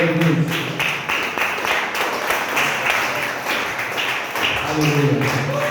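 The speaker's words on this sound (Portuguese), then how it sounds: "Os irmãos se assentem, mas se assentem exaltando com palmas e glória a Deus" A church congregation at a missions service claps hands in a dense, steady patter of applause, with a voice speaking over it and cheering voices rising at the start and end.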